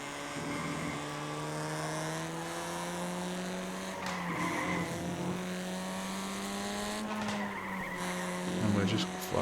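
Race car tyres skid and spin in the iRacing sim, a sustained engine drone with sliding tyre squeal that rises and dips in pitch, close and continuous throughout.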